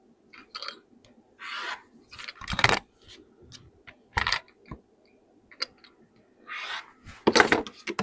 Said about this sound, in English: I'm going to cut 2 2-inch strips